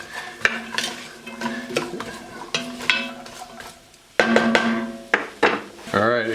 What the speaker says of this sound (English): Got our mirepoix in here. We are just going to cook this down.